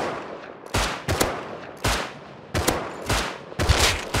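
Gunfire in the survival video game Rust: five or six loud, sharp shots in irregular bursts, each a broadband crack with a short tail, with no talking.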